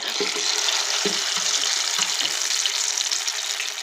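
Egg potato cutlets fry golden in hot oil with a constant, close, dense sizzle, broken by a few soft knocks early on.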